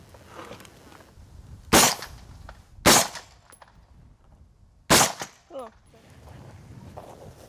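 A rifle fires three loud, sharp shots, spaced unevenly, with quiet handling noises and faint background sounds between them.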